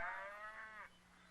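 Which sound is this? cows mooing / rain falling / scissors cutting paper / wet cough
cows mooing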